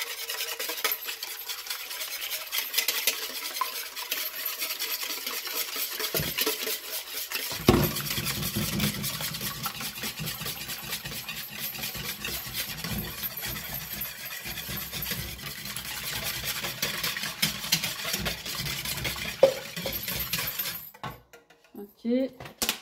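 Batter of beaten eggs, milk and oil being whisked in a mixing bowl, a continuous rapid scraping and tapping that runs for about twenty seconds before stopping, with a few louder knocks partway through.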